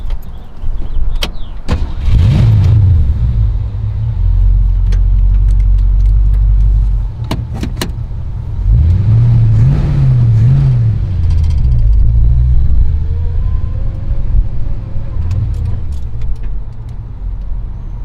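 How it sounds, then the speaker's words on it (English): A 1965 Ford Mustang convertible drives around a block, its engine a steady low rumble heard from inside the car, with the pitch rising and falling twice as the car accelerates, over faint road and wind noise. "Just going to do a quick in-car video of my 65 Mustang convertible"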